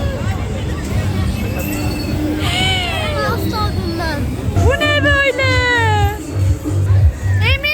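An amusement park train rumbles along with squealing wheels and rhythmic clacking, while a crowd murmurs and people talk nearby.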